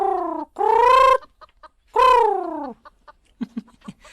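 A chicken gives two long, loud drawn-out calls close by, followed by a few short, quieter clucks. No one speaks.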